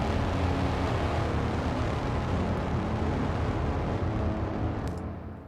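A bass braam from a horror sample pack roars as a dense, loud, sustained low rumble that holds steady and then begins to fade near the end.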